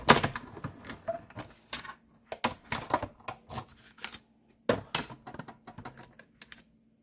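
Paper cut for a handmade card sounds as a series of crisp, close snips and clicks in uneven bursts, separated by short quiet gaps.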